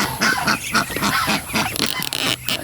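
Backyard farm ducks and geese call in repeated honking, quacking bursts, close by and loud, with a few pauses between calls.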